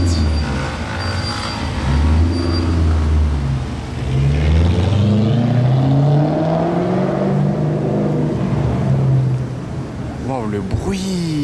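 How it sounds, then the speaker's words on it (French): A vintage Aston Martin V8 Vantage engine roars loudly, rising and falling in pitch across several pulls as it accelerates, with people talking over it throughout. "le bruit Aston V8 Vantage de l'époque là, mais magnifique"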